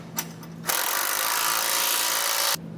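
Bolts on a Demco tabless tow bar base plate being snugged down on a 2015 GMC Canyon with a power wrench: one loud, close, buzzing whir lasting about two seconds, then it stops.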